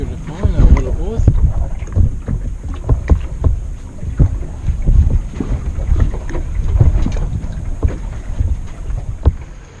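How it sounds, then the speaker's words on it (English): Strong gusting wind buffets the microphone on a small fishing boat out on Gold Coast Broadwater, a loud, rumbling roar that swells and fades in uneven gusts, with occasional water slaps against the hull. "the wind's come up quite bad now"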